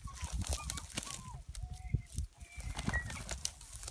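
A game bird flaps its wings during dog retrieve training outdoors, giving brief flutters and rustles mixed with other small bird sounds and background noise.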